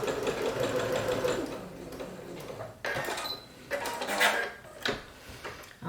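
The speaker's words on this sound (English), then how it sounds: "lower your presser foot and stitch to the corner" A sewing machine stitching quilt pieces for an hourglass quilt up to the corner, a steady close whirring hum that stops, followed by a few clicks and handling sounds as the fabric is adjusted.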